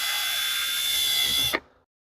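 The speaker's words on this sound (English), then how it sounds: "So you run the drill bit in it, let it spin, and you should be able to pull it out." A drill bit spins inside the plastic cap of a Pro Gate shock, giving a loud, steady whir that lasts about a second and a half before it cuts off abruptly into silence.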